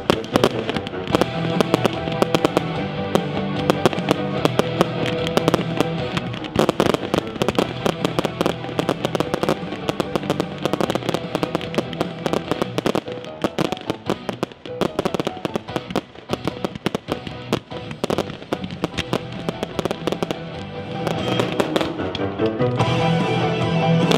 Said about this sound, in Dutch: dit siervuurwerk wat we vanavond gezien hebben